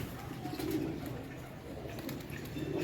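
Pigeons coo in a low, throaty murmur from a flock kept by a pigeon fancier, the soft calls repeating steadily at close range with no voices over them.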